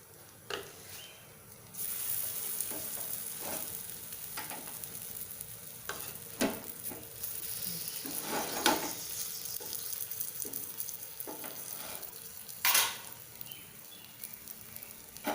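A sandwich fries in butter in a pan with a soft, steady sizzle, broken by occasional scraping and clattering as it is turned.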